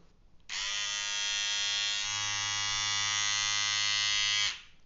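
A Powertec electric beard trimmer with metal blades starts up and runs with a steady, loud buzzing hum for about four seconds, then switches off.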